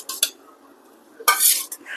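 A spoon stirs and scrapes in a pot of boiling water as dal is added, giving a couple of short metallic clinks followed by a louder burst of stirring and scraping, close up, with no talk.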